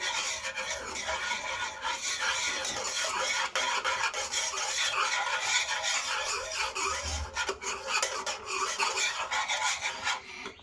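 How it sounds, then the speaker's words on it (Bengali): A spoon scrapes and rasps steadily against a pot as mango pudding mixture is stirred, a continuous close scratching texture with no talking. "আর আমি কিন্তু নাড়িয়ে নেব, নাহলে এক জায়গায় জমাট বেঁধে যাবে"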